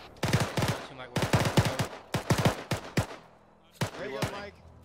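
Machine gun fire in a military video game rattles out in several loud, closely spaced bursts with brief pauses between them.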